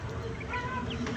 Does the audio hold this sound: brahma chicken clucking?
yes